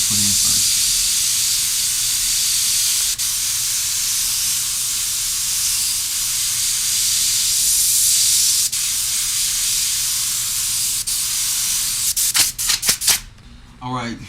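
An airbrush sprays paint onto a hip hop portrait with a loud, continuous close hiss that holds steady, then breaks into short sputtering bursts near the end.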